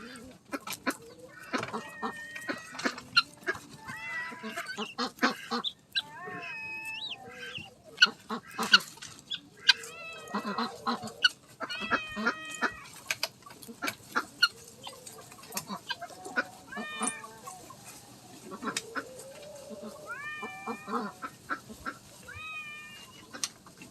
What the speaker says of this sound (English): I'm just surrounded by ducks and Fernando.